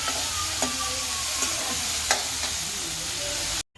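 Tomato spice paste and onions sizzling steadily in a hot pan while being stirred, a continuous close frying hiss with occasional scraping clicks of the spoon.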